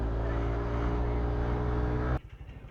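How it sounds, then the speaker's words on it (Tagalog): A Yamaha Aerox 155 scooter engine, just started, holds a steady loud hum up close, then cuts off abruptly near the end to a low, uneven rumble. "Kaka-start lang ng motor ko"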